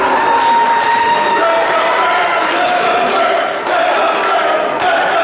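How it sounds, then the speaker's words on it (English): A wrestling event crowd roars and cheers continuously, loud and dense throughout, with some thumps from the ring and a commentator's voice mixed in. "Listen to that crowd."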